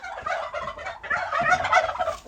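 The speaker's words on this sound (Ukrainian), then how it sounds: "індика" A red Muscovy-mallard hybrid's farmyard neighbour, a turkey, gobbles loudly and close by in a rapid, warbling rattle, repeating twice with no talking.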